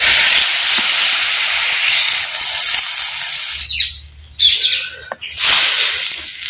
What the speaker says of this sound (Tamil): இப்போ கால் லிட்டர் தண்ணி வந்து இப்போ சேர்த்துக்கிறேன்